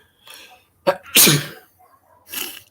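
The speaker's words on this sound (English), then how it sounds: "I'm really sorry. I sneezed." A single loud sneeze, a sharp intake then an explosive burst, with a quieter breathy sound before it and another soft puff after.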